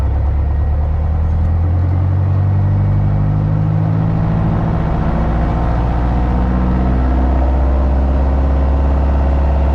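Piper Arrow piston engine running up to 2,000 RPM on the ground before takeoff, a loud steady droning rumble with strong low harmonics that holds constant throughout, no voices.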